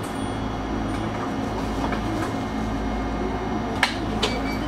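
An Eizan Electric Railway Kurama Line local train runs between Demachiyanagi and Kurama, giving a constant low rumble from the cab with faint rail clatter and a couple of sharp metallic clicks near the end.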